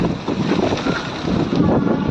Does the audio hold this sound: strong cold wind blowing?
yes